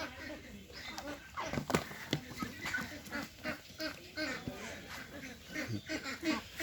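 Young Pekin ducks, about 39 days old, on a farm give repeated quacks and honks in an uneven rhythm, close by and moderately loud, with people talking among them.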